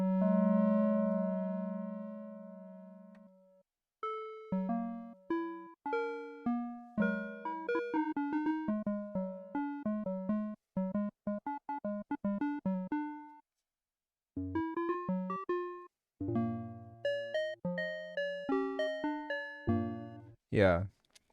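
A hardware synthesizer plays bell-like tones: a long sustained chord, then quick runs of bright, ringing plucked notes with clear harmonics in rhythmic phrases, ending in a brief rising sweep, heard clearly with no talking.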